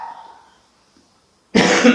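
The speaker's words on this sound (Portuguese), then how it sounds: "agora vai dar uma tosse" A faint murmur fades into near silence, then one loud, close cough bursts out at the end.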